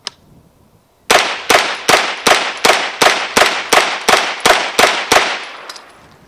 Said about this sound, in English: Just a nice shooting little gun.